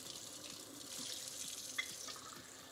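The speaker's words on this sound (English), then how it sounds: "Let's get some warm water." Warm water runs steadily from a kitchen tap into a sink during baking prep, a continuous soft hiss and splash at low level with no talking.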